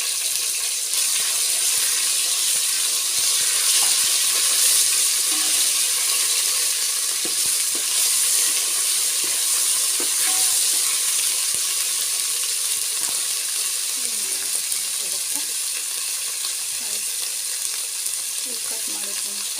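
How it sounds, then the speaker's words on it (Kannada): Ginger garlic paste frying in a hot pan while pulao is being cooked, giving a steady bright sizzle and hiss that stays loud and even throughout, with faint stirring scrapes and no talk. "ಶುಂಠಿ ಬೆಳ್ಳುಳ್ಳಿ ಪೇಸ್ಟ್ ಹಾಕೋತೀನಿ."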